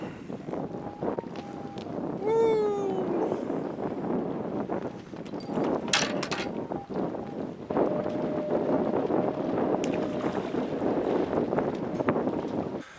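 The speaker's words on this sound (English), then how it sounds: "So much for that wind slacking off. It's back in full force now." Strong wind blows outdoors at night on a catfish fishing trip, a steady rushing roar buffeting the microphone with a few brief squeaks and knocks, no talk.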